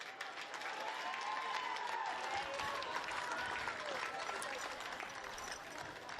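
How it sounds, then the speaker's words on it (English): Crowd applause at a women's NPL Northern NSW first-grade grand final between Charlestown Azzurri and Maitland FC, greeting the Maitland coach; steady, dense clapping with a broad crowd roar throughout, along with a faint announcer-like tone beneath it. "Big round of applause for Maitland coach Joe Wright."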